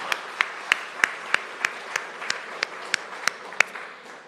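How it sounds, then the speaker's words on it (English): An audience at the Falling Walls Lab Edmonton event claps for last year's winner, with about a dozen sharp, evenly spaced claps in a steady rhythm, roughly three per second, close and fairly loud. "Let's clap again."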